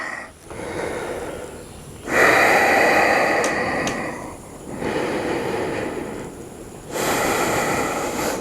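Deep breaths during a full-body yoga strengthening workout, heard as several long, forceful breathy exhales, close and fairly loud, separated by quieter pauses.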